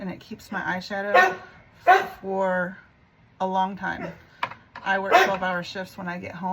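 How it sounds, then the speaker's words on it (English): A dog barks in the background, several short barks mixed in with someone speaking close to the microphone. "Excuse my dog barking."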